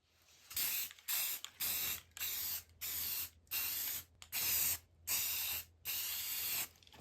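A spray can squirts paint around the edges of a thrifted frame in eight quick hissing bursts, each about half a second long, separated by short pauses and heard up close with no voices.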